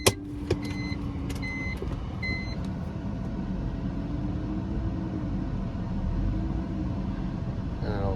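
A BMW E46's engine cranks and catches after a few clicks, then settles into a steady low idle rumble close by, with a voice speaking briefly at the start.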